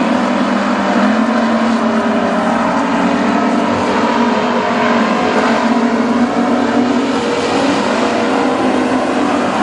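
WISSOTA street stock race cars roaring around the Princeton Speedway track, a loud, continuous engine drone with overlapping revving from several cars, steady and close, no talk.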